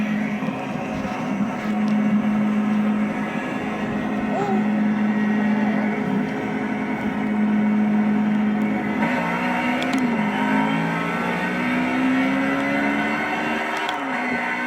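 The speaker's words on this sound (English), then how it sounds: "Now watch, I can shift as quickly as possible and it won't rev limit." Race car engine in the Project Cars video game, a steady loud drone with rapid gear shifts and pitch steps, rising in pitch toward the end, with no talk over it.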